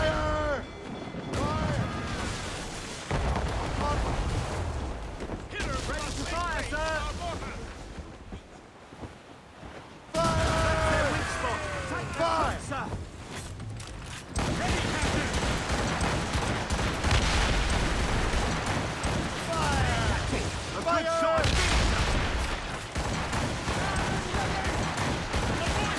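Ship cannons boom and fire in volleys during a naval battle in Assassin's Creed Rogue, heavy blasts and crashing impacts mixed with shouted commands, the barrage dense and loud across most of the stretch.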